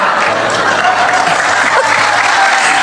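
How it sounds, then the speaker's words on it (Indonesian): Loud, sustained audience applause at a church sermon, a dense crowd of clapping hands filling the whole stretch with a faint murmur of voices underneath. "Nggak usah tepuk tangan, nggak penting."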